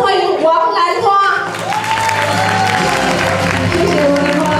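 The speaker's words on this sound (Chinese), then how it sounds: "掌声欢迎王兰花" At a Taiwanese gezaixi opera show in Kaohsiung, a voice speaks briefly before the audience breaks into broad, sustained applause and crowd noise welcoming performer Wang Lanhua.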